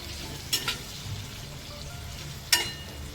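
Chopped pumpkin for thepla sizzles softly as it cooks in a pan, with a steady low frying hiss and two brief scraping stirs.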